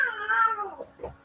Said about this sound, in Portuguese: A Jaya é uma gatinha que foi espancada